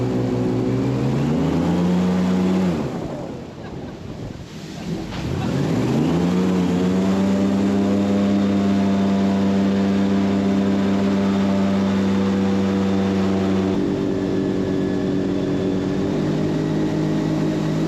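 A loud engine-driven propeller on a small airboat in the Everglades drones steadily, dips briefly as it throttles down, then surges back to a sustained roar.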